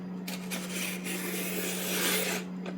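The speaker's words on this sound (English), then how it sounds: "Okay, so let us use this trimmer." A paper trimmer drawn across a printed calendar sheet, one continuous close rasping cut lasting a couple of seconds over a steady low electrical hum.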